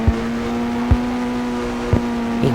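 A car with some fault runs with a steady, droning engine hum, broken by a few sharp thumps spaced about a second apart. No one speaks.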